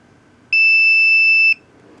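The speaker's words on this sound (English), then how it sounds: "Press it for 3 seconds until the long beep sound." A Poundland wireless anti-loss tracker gives a single loud, steady, high-pitched electronic beep lasting about a second as it is switched off, alone against a quiet room.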